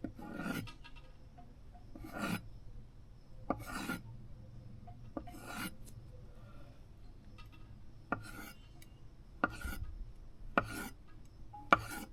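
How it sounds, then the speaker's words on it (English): A spoon scooping avocado flesh out of its skin, a series of regular soft rasping scrapes about a second or two apart, close and alone. "So let's spoon that out actually."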